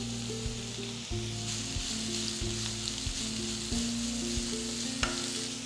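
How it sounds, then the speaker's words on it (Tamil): Constant sizzling of chopped onions and curry leaves sautéing in a hot pan, close and steady, with occasional stirring scrapes and a low hum underneath. "வெங்காயத்தை ஒரு அஞ்சு நிமிஷம் வதக்கினா போகிறோம்"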